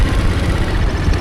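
A scooter engine idles steadily and close by, a continuous low rumble with no voices.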